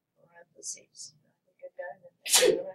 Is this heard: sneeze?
yes